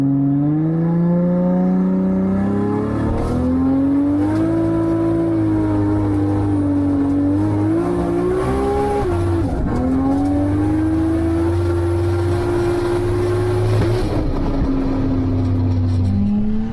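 A 1500-horsepower straight-six rear-wheel-drive drag car with a two-speed Powerglide roars through a long, loud acceleration at an airport strip, the engine note climbing steadily, dipping at a shift, then climbing again.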